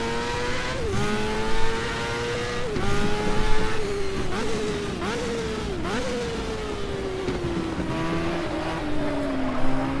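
Race car engine in the video game GTR2 at Motegi, revving high and loud with repeated gear shifts and throttle lifts, pitch climbing and dropping through second- and third-gear corners.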